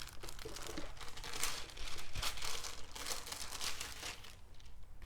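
A hot household iron is pressed and slid over layered plastic bags to fuse them into a car trash bag, giving steady crinkling and rustling of plastic with no talk.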